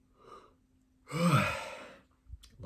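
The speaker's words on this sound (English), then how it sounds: "So, lots of yawning today." A single long, breathy yawn or exhale, heard close and fairly soft, following a faint earlier breath in an otherwise quiet room.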